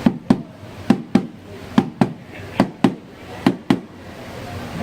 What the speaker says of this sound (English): For us, it was always a single beat, and that varied on speed, or it would sound something like this.